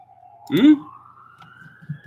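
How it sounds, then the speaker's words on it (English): A distant emergency siren wails as one faint, steadily rising tone under a short burst of a voice, with low murmurs continuing beneath it. "And here we have the obligatory sirens."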